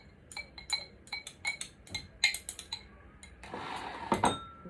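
A spoon stirs sugar body scrub in a bowl, giving close, rhythmic clinks against the bowl and then a gritty, scraping swirl.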